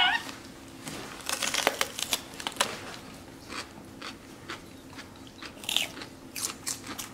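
A pet monkey bites into and chews a giant red pepper, producing close, wet crunching bites in irregular bursts, with quiet background noise between them.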